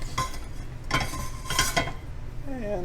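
A spoon scrapes and stirs thick peanut butter fudge mixture out of a pot, with a few short close scraping strokes and light clinks of utensil on cookware.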